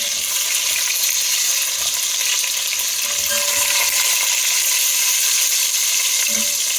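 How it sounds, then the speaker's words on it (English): Carrots and onions browning in a pan for a Quebecois pork trotter and meatball stew, giving a steady, close sizzle throughout with a few faint clinks and stirring sounds and no talking. "So now we're just browning our vegetables"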